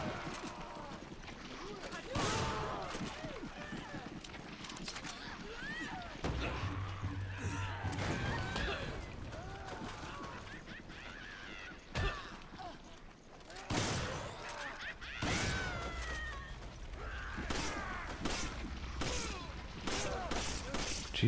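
Bursts of gunfire ring out in the Resident Evil 5 Mercenaries mode, playing BSAA Chris, with scattered shots and volleys under steady talking.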